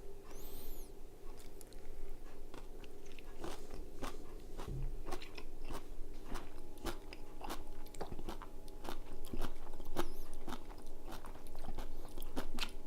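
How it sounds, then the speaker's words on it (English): Crunchy bites and chewing of six-month-old homemade sauerkraut eaten with a fork, a steady run of sharp, close crunches repeating throughout with no talking. "Pardon the crunching."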